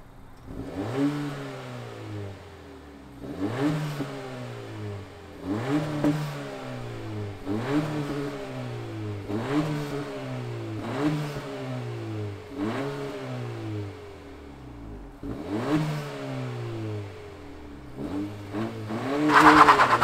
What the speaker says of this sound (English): let's fire up this Civic Si and hear what it sounds like